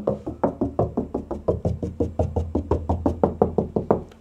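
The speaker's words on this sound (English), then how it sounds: "generally a stud partition wall is going to feel hollow almost everywhere. So as you knock on the wall," Knuckles rap steadily on a hollow stud partition wall, roughly twenty evenly spaced knocks that sound close and loud, with no talking.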